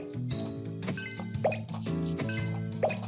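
Water drips and plops in the Baby Panda first aid game, a few bright droplet sounds landing over a steady cheerful game music bed, moderately loud and close.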